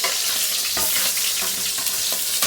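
Marinated boneless milkfish (bangus) frying in hot oil, a loud, dense sizzle that stays constant throughout, with soft bubbling crackles and occasional spatters.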